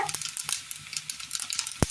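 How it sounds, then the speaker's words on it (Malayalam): Crackling pops and sizzles of mustard seeds spluttering in hot oil, irregular and close, with a sharp clink near the end. "കടുക് പൊട്ടി വരുന്ന സമയം"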